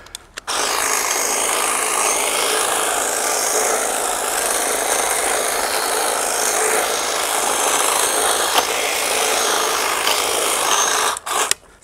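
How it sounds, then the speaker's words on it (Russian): A hedge trimmer shears a juniper being shaped as a bonsai in outdoor topiary work, giving a steady, close, dense buzzing rasp that runs almost unbroken for about eleven seconds before cutting off. "беру в руки кусторез и будем его стричь"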